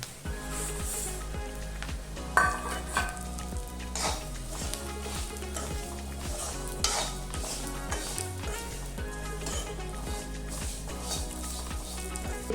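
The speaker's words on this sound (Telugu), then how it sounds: "కాస్త వేగాక ఇందులోకి నువ్వులు వేసుకోవాలి" Sesame seeds roast in a pan with dried coconut for bitter gourd spice powder, a continuous soft crackle and rustle with frequent scraping strokes of a spatula and an occasional metallic knock, under a low steady hum.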